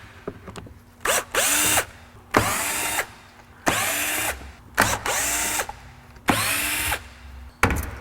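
A cordless power drill backs out screws from a blower motor housing on an Acura Vigor, five or six short whining bursts of rising motor pitch separated by brief pauses, close and loud with no talking.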